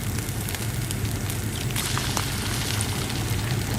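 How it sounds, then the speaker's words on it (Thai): Steady crackling sizzle of eggs frying in hot oil, dense popping and spitting throughout, close and fairly loud with no talking. "หลังจากนั้นเราก็จะตอกไข่ใส่ลงไปเลยจ้ะ"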